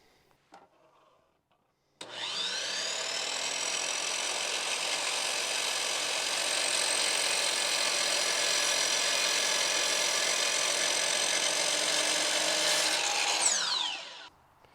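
A power saw makes a plunge cut for a return mitre on a wooden balcony nosing. It starts abruptly and whines loudly and steadily for about twelve seconds as it bites into the wood, then winds down.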